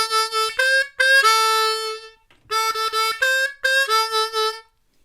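A D diatonic harmonica plays two blues lines back to back, bright reedy notes in choppy bursts with bends, loud and up close, no voices.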